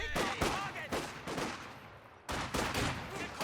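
A sniper firing at Ostruppen infantry in a strategy video game, a rapid run of overlapping gunshot cracks amid a dense battlefield din, moderately loud with a brief lull before the firing resumes.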